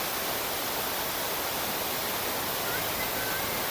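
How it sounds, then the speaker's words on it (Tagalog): Water rushing at Hinulugang Taktak waterfall in Antipolo City, a steady broadband roar of falling, flowing water that fills the whole short stretch without letup. "marinig mo yung tubig, ang agos ng tubig,"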